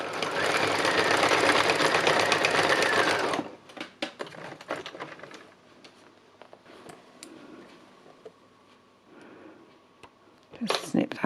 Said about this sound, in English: I'm just doing a little bit of stitching onto here, just so that that's all held in place